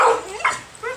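Several wet dogs bark and yip close by, wanting to be let in out of the rain, with a loud first bark, a sharp yelp midway and a whimpering bark at the end.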